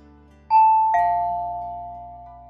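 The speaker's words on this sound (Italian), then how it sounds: "Qualcuno suonò al campanello." A two-tone doorbell chime rings once, a bright high note followed by a lower one that slowly fades out.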